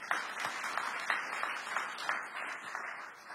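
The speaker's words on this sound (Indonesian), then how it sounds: "Beri tepuk tangan bagi Tuhan." A church congregation applauding for God during a sermon, steady dense clapping from many hands, moderately loud and continuous with no talk over it.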